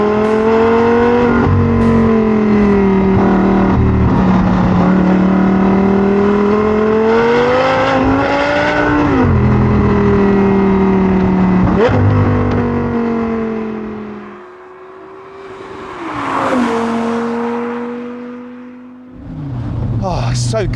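An Audi R8 Spyder drives on a winding road, its engine loud and steady with rising and falling revs through gear changes, easing off briefly before pulling hard again.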